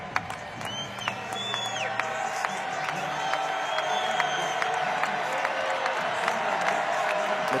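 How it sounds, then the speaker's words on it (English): A basketball crowd in Sioux Falls roars during a tight Summit League semifinal between South Dakota State and St. Thomas, with sustained cheering, whoops and clapping, and sneaker squeaks cutting through the din. "The crowd gets loud here in Sioux Falls"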